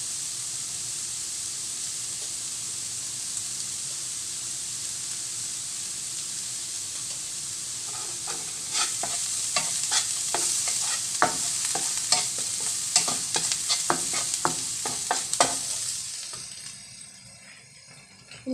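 Chicken with crushed chili fries in a pan in a steady, close sizzle, and from about nine seconds in, spoon-scraping stirs click and scrape in irregular bursts before the hiss fades near the end.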